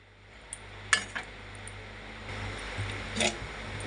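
Metal lid set down over a pot of rohu fish curry with drumsticks and potato, giving a few light clinks and one sharper clatter near the start, then a softer rattle later over faint kitchen hum.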